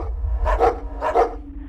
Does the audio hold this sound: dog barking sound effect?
yes